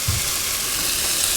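Shrimp frying in a pan as cumin, crushed red pepper and salt are stirred in for camarones enchilados, giving a steady, close, even sizzle with no pauses and no voices.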